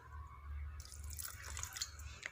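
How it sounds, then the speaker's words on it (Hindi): A small splash of water goes into a fish fry masala paste, a soft dripping trickle that starts quietly and then turns into a brighter, busier pour partway through, with no talk. "थोड़ा सा पानी शामिल करेंगे"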